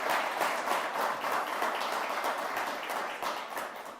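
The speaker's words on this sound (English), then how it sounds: "Can we give him a round of applause?" An audience at a Fairmont State University education announcement with the governor gives a round of applause, a dense, steady patter of many hands clapping at close range for the whole stretch.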